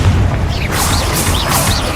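Confringo fire spell from Hogwarts Legacy bursting in a loud, close boom with a crackling, whooshing tail, lasting about two seconds and heard alone.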